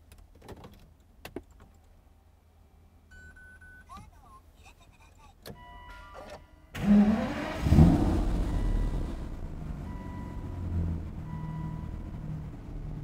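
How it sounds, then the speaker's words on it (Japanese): A 2012 Aston Martin Virage Touchtronic 2 with red leather interior starts with a few quiet clicks and whirs, then the engine fires up with a loud, close burst and settles into a steady idle. "ではエンジンを始動します。"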